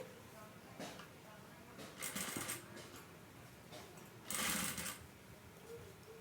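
Sewing machine stitching a seam on a shape belt, heard as a few short whirring bursts of stitching separated by pauses, faint and close, with a quiet voice in between.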